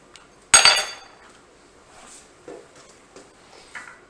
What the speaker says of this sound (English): Let's get right in there with a spoon. Avocado diced.